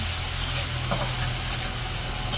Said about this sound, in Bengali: মাছ ভাজা নামিয়ে নিছে এখন এই যে পেঁয়াজ আর কাঁচামরিচ দিয়ে দিল